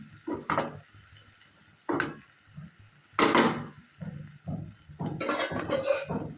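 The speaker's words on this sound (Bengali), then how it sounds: "সেদ্ধ করে রাখা ডাল আমি ঢেলে দিলাম।" Boiled red lentils poured into a cooking pot, with soft clattering of a pot and utensil, scraping and stirring in several separate bursts, ending in a longer wet sizzling stretch; close and without talk.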